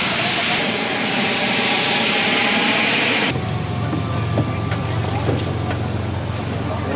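French presidential jet airliner landing at Bern airport, a loud steady engine roar and rumble filling the whole stretch, shifting to a deeper rolling drone midway as it touches down and passes close.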